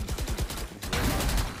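Rapid automatic gunfire rips through a wall in the game Valorant, a quick run of close, sharp pops that swells into a denser burst.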